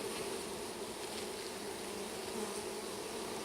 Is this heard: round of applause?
no